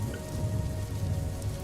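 Soft, steady rain patters continuously in the background, a gentle, even hiss of drops with a low, muffled rumble underneath.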